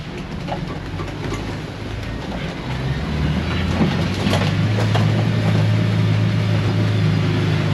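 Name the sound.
Mahindra Roxor off-road vehicle driving uphill in 4 low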